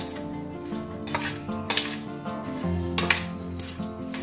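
A spoon clinks and scrapes against a steel bowl while raw mango pieces are tossed with salt and turmeric. The metallic taps come repeatedly and close, and no one speaks.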